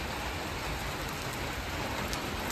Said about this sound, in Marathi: आता पाऊस कंटिन्यू लागला आहे, जाम पाऊस आला.